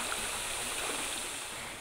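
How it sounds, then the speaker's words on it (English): A small, slow creek in a conservation corridor flows steadily, giving a soft, even wash of running water with no voices over it. "This little lazy creek goes right downstream"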